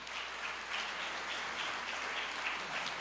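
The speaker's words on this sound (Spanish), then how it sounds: "Nuevamente un aplauso para la experiencia de Medellín." An audience at a Medellín environmental forum on water resource management applauds steadily, a dense even wash of clapping filling the whole moment without pause.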